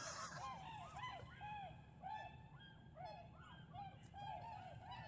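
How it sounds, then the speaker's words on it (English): Many snow geese honk repeatedly overhead, a busy chorus of overlapping calls at moderate distance over a low steady background hum. "Snow geese."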